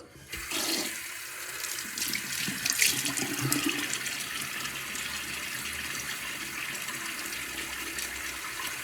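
Water runs steadily from a bathroom tap into a sink for wetting the face before a wet shave, a continuous splashing stream that holds nearly unchanged from start to finish with no voices.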